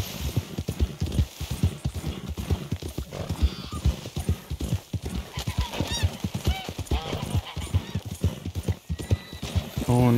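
Horse hooves clip-clop steadily while riding in the Red Dead Redemption 2 video game, a continuous rhythmic gait with a horse whinnying, heard under someone speaking German throughout.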